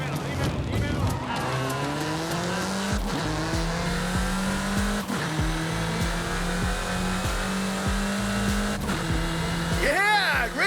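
Car in Forza Horizon 5 driven hard, engine note repeatedly climbing through the revs with sharp drops at each gear change, tires squealing near the end, all loud and continuous.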